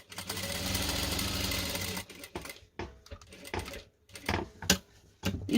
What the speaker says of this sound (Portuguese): agora passo uma costura aqui por dentro do risco que eu fiz